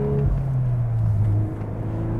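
A Volkswagen Mk8 Golf R braking hard to a stop, a close low engine and road drone that drops in pitch and eases off as the car slows, with no talk.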